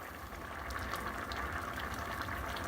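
A pot of water boils on the stove as rice is about to go in, giving a steady, low bubbling hiss that runs without pause.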